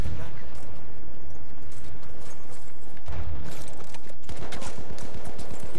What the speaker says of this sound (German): Scheiße, man, von hinten schon wieder beschossen